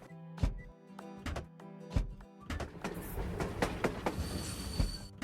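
A toy train pulls in within a kids' train video game: clear, regular clickety-clack beats at first, then a busier rattling rumble with a faint high squeal as it arrives, loud and close, with no talking.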